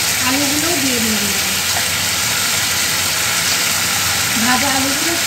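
Potatoes frying in a pan with spices, a steady broadband sizzle running throughout at close range, with a voice talking over it in places.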